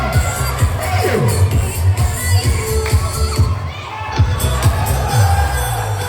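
Crowd cheering and shouting at a barangay muse pageant in San Juan, Tiaong, Quezon, a loud, steady roar of voices with whoops and bursts of noise, while music or an amplified voice runs underneath.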